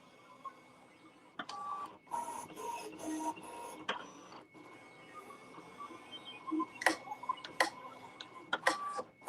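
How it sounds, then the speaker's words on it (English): A Siser Romeo cutting machine recutting a photo magnet in the same spot: motor whirs and carriage moves with irregular clicks and ticks, fairly close and mechanical, with no speech. "it would cut in the exact same spot again because I have not taken it out of the machine"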